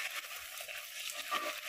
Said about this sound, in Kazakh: Кішкене қуырылды.